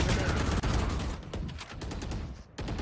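Rapid gunfire from Valorant during a professional match between Sentinels and FaZe Clan rattles in dense loud bursts, with a caster's voice faintly underneath.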